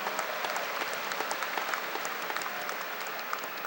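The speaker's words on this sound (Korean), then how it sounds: "다시 한번 큰 박수 부탁드립니다" Sustained applause from delegates at a Grand National Party national convention, dense steady clapping filling the hall throughout with no voices on top.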